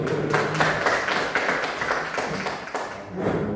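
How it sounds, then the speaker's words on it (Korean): Applause from a congregation at a Sunday church youth service, as dense, fairly loud clapping that holds steady for a few seconds and thins slightly toward the end. "다시 한번 오늘 주일 복된 주일 허락하신 하나님께 영광의 박수"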